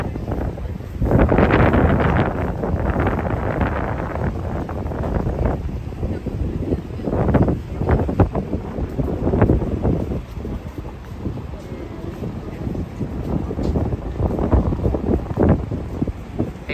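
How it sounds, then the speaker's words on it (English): Wind gusts buffet the microphone on a Manhattan street on Black Friday, a loud, rumbling roar that swells and eases in waves, with a voice speaking faintly beneath it. "The weather is all right, just a bit windy."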